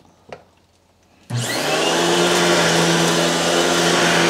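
A Royal 7300 upright vacuum cleaner, recently repaired, switches on after a faint knock and then runs alone with a loud, steady roar and a sustained motor whine close by.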